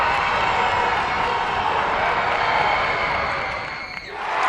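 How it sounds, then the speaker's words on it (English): A packed gym at a high school boys basketball semifinal, Keene vs Portsmouth, erupts in a loud sustained roar of cheering and shouting that swells, then dips briefly near the end. "A deafening crowd here may have forced the miss."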